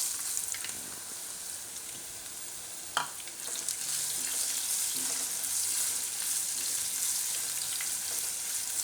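Chopped raw mango tipped into hot oil with reddened garlic and asafoetida for a gunda keri methi shaak, sizzling steadily and loudly after a sharp clatter as it lands in the pan.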